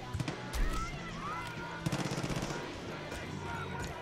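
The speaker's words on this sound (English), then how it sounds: "Oh, I got shots fired." Gunfire in the multiplayer video game Far Cry 5, scattered shots and short bursts at moderate distance over game ambience, with brief talk mixed in.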